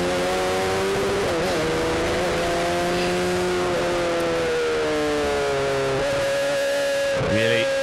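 Race cars at Kirkistown circuit roar loudly through a chicane and accelerate onto the straight, engine notes dipping and climbing through gear changes, with several cars overlapping in a continuous, distorted drone.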